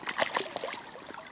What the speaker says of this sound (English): oh, water.